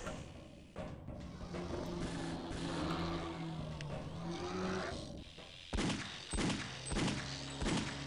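Gunfire in the video game Half-Life: Opposing Force: after a stretch of droning game ambience with engine-like tones, several loud, close shots crack in a quick burst near the end.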